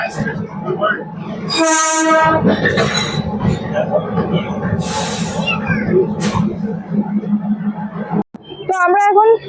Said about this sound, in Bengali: তো আমাদের ট্রেন এখন ঘুম রেলওয়ে স্টেশনে চলে এসছে।